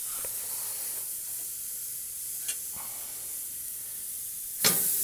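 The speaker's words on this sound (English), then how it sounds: "Just let those sizzle on the barbecue." Steaks sizzle on a blazing hot barbecue grill outdoors in Sedona with a steady, bright hiss. A few soft pops and one sharper crackle near the end stand out, and no one speaks.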